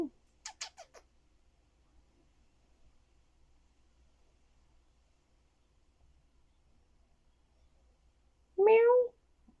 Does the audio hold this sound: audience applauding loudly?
no